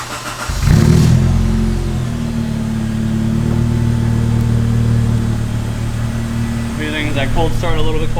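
A Honda EK hatchback with a custom exhaust cold-starts with a loud burst, then settles into a steady, throaty idle close by, and a voice is heard near the end.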